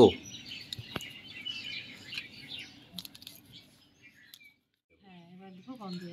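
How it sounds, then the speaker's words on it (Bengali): Birds chirp and tweet in the background, several small calls overlapping, with a voice speaking briefly near the end. "কত রকমের পাখির যা শব্দ"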